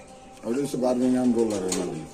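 A pigeon coos close by at a pigeon market, one low, drawn-out warbling call lasting a couple of seconds.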